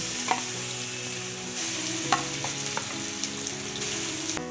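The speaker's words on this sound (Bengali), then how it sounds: "রসুনটা একটু লাল লাল করে ভেজে নেব" Garlic fries in a pan for a Bengali gourd-leaf paste dish, giving a steady, close crackling sizzle broken by a few sharp clinks and scrapes as it is stirred.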